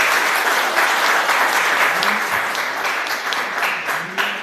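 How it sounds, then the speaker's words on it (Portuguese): A conference audience applauds as a philosophy professor is invited to the panel table, a sustained, full round of clapping filling the hall, fairly close and loud. "Salve de palmas para o professor."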